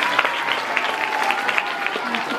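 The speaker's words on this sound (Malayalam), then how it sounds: "നല്ലൊരു ക്ലാപ്പ്" An audience at a school function applauds in a continuous dense patter, with a voice faintly audible beneath the clapping.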